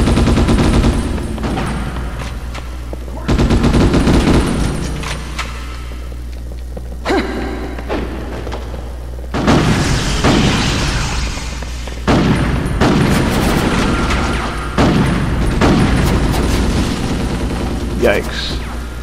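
A flying turret in the PS2 Ghost in the Shell game lets off repeated loud bursts of automatic fire, heavy booming volleys recurring every few seconds over a persistent rumbling mechanical drone.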